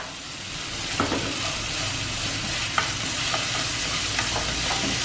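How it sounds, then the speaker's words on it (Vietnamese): Meat sizzles steadily as it is stir-fried in a pan, with occasional light clicks of a spatula against the metal over a constant frying hiss and no speech. "mình xào để cho thịt nó chín hẳn luôn"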